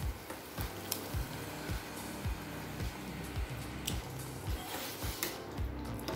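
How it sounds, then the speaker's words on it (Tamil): Tempering for sambar rice with cooked onion and tomato, a soft steady sizzle in the pan under repeated scraping and stirring knocks at an even rhythm. "இப்போ நம்ம சாம்பார் சாதத்தை தாளிச்சிரலாம்."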